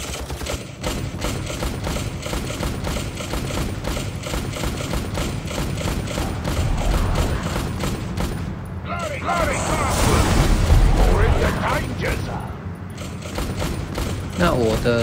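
A machine gunner firing in the Vainglory mobile strategy game: a dense, loud, continuous stream of rapid shots and thuds layered over game effects and music, with voices speaking throughout.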